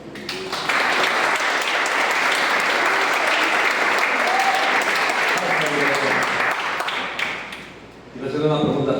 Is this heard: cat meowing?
no